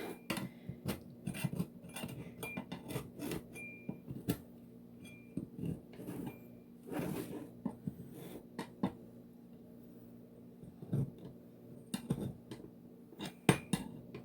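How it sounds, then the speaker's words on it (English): A baked pizza is pried loose from an unsprayed pan: scattered metallic scrapes and clinks of a utensil against the pan, in irregular bursts at close range with quiet gaps between them. "we're gonna carefully unstick it from the pan"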